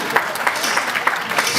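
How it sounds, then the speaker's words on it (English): A seminar audience at an anniversary event in a hotel in Kitwe, Zambia, breaks into applause: dense, steady clapping fills the room for a moment with a few sharper peaks, no voices rising above it. "Round of applause, ladies and gentlemen."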